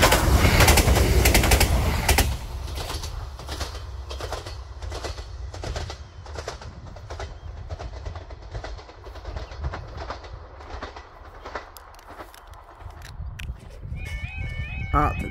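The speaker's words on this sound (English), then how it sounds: "158720 passes with 2H63, the 1041, Inverness to Wick at some considerable speed." A Class 158 diesel multiple unit on the Inverness to Wick line races past near Brora at high speed, a loud close roar with rapid rhythmic wheel clatter over rail joints that eases gradually as the train recedes.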